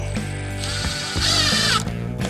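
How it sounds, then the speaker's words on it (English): A power drill drives small sheet metal screws into a seat being built for a Yamaha G11 utility golf cart in a metal shop. A brief whirring burst of driving comes between mechanical clicks and taps. "so that they don't move before I put the screws in"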